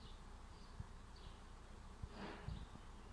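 A low, steady buzzing of wasps around a large nest in a cherry tree fills the background outdoors, with a few faint knocks and rustles.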